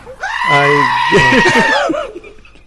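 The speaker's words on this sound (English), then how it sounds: "Good old goats. Screaming goats." Goats on a farm give a loud, drawn-out screaming bleat that wavers and breaks into shorter cries near the end, heard up close with no talk over it.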